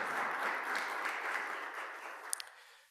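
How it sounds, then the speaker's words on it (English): A warm round of audience applause for panelists at a morning panel discussion, a steady wash of clapping that slowly fades over a few seconds. "would you please give a warm round of applause and welcome to all of our panelists"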